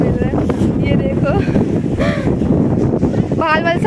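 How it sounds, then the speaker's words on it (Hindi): Strong wind blows outdoors at a garden during an Independence Day outing, buffeting the microphone with loud continuous rumbling while people talk over it. "हवा बहुत जोर की चल रही है"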